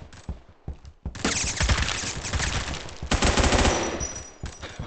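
Sustained automatic assault rifle fire in the online shooter Phantom Forces, loud and continuous bursts after a brief pause, with a short gap near the middle before the firing resumes.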